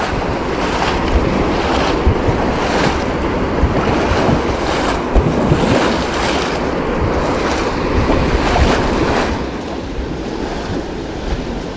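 Strong river current rushes in a steady, loud wash of turbulent water with gusty surges, no talking heard.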